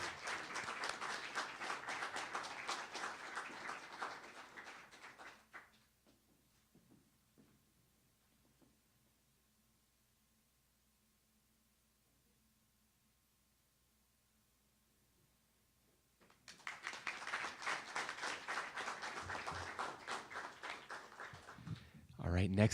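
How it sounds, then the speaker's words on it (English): Audience applause for an honoree named Jill at a Utah state recognition event, a steady wash of many hands clapping that fades out, then after a long quiet gap swells again into loud sustained clapping. "Please give a round of applause for Jill."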